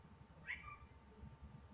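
A pet cat gives a single short meow in the middle of a quiet room, with faint background hum.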